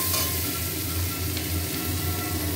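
Water poured into a pan of well-fried masala sets off a loud, steady sizzle that runs evenly and alone for the whole stretch.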